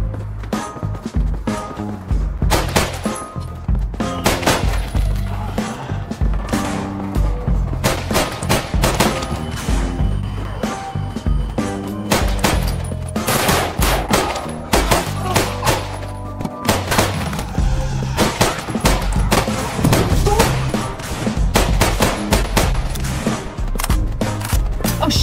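Rapid, loud gunfire crackles almost nonstop in the zombie shooter No More Room in Hell, with dense overlapping shots and bursts close at hand over a constant backdrop of game noise.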